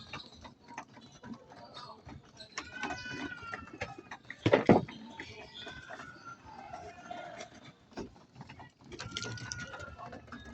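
Pigeons in a loft eating natural grit of mixed sizes, with soft pecking ticks, coos and fluttering mixed in, a sharp burst of flapping midway, and a voice faintly in the background.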